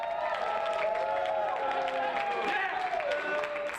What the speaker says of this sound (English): Some students cheered and some booed when the Democrats took the House.